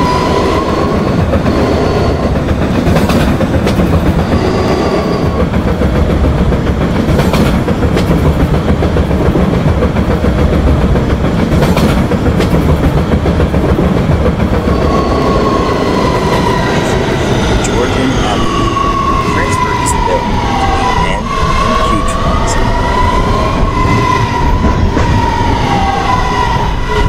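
A Roblox subway train on the R line rumbles loudly and continuously, wheels clattering and squealing on the rails, with a voice speaking over the din.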